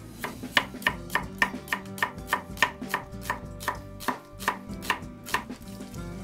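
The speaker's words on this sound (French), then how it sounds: "je vais émincer l'oignon" A knife thinly slices an onion, giving a steady run of crisp, evenly spaced chops, about three per second, close and clear with no talk.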